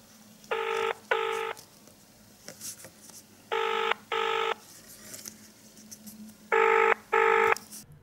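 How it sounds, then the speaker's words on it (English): Smartwatch call ringing tone from a No 1 S5 smart watch: three pairs of short electronic double-rings, evenly spaced, clear and moderately loud over a quiet background hiss. "the ringing tone from the watch."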